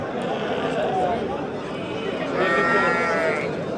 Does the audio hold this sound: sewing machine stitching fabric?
no